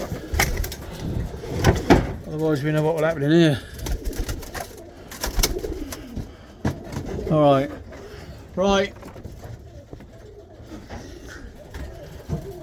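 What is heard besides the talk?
tippler pigeons cooing in loft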